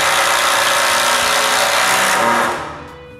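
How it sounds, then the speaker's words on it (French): Two 6-inch screws driven into wood with a power drill as a greenhouse rack is moved: a loud, steady whirring drive that runs continuously for about two and a half seconds, then cuts off abruptly. "Je visse 2 vis de 6 pouces en haut."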